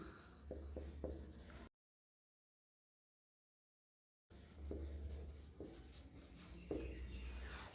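Chalk or marker scratches and taps on a board during a Class 10 maths lesson, soft and close. The strokes come in short bursts, broken by a gap of total silence.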